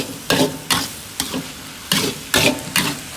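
Holy basil for kra pao is stir-fried in a pan, with loud scraping strokes in an uneven rhythm of about six over a sizzling background, no voices.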